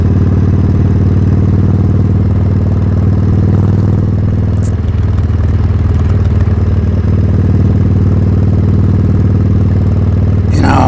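A motorcycle rides home at night in winter. Its engine drones loud and steady, with a low rumbling tone and some clatter throughout, and there is a brief disturbance near the end.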